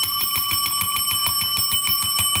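A hand bell rings rapidly and steadily during a live auction, with about ten evenly spaced metallic strikes in quick succession, loud and close, with no talking.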